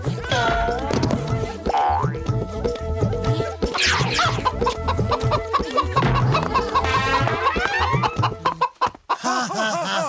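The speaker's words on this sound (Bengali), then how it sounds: "আরে কে মোটু, তুমি একটা মুরগিকে ধরতে পারো না?" A cartoon chicken clucks in frantic, squawking bursts over busy comic music and boing-like sound effects, loud and animated throughout before a brief drop near the end.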